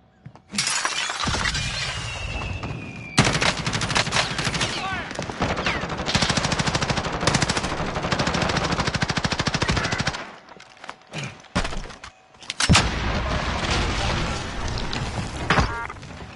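Light machine gun in a shooter video game firing long sustained bursts of rapid shots, loud and close, broken by short pauses and scattered single cracks, with brief glassy shattering mixed in.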